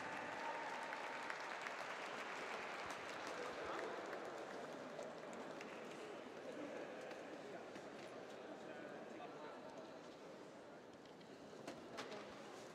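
Sustained audience applause for the men's visual impairment B2 medalists at the 2017 Paraclimbing Cup in Edinburgh, a long dense wash of clapping filling an indoor arena, fairly distant and steady, with scattered cheers throughout.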